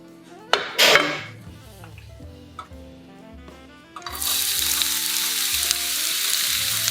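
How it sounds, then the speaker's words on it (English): Onion and red onion hit hot extra virgin olive oil in a pan over medium-high heat, a few clinks and taps of utensils first, then a sudden loud, steady sizzle that holds close and constant. "Saute onion and red onion."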